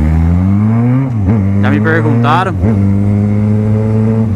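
A Yamaha XJ6 motorcycle engine held at high revs against the rev limiter, giving a loud, close, sustained buzzing drone with a couple of brief dips where the limiter cuts in, while someone speaks over it.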